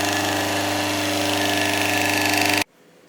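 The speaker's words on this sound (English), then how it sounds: "So this is a router." A motor whines steadily at a high, constant pitch, like a wood router running, then cuts off abruptly, leaving near silence.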